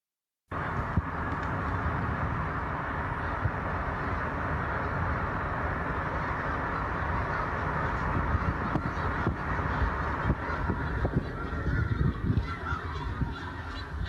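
Snow geese and other birds on farm fields in Windsor Township, Berks County, make a dense, continuous chorus of honking and cawing, a steady wall of many calls from a large flock at middle distance, with no talk.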